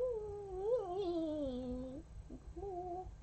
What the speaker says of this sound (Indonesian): Oh, kucing.